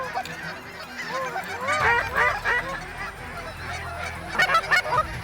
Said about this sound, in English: Good bunch of ducks out front.